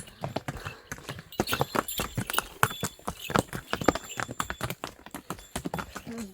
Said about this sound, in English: And there are horses as well.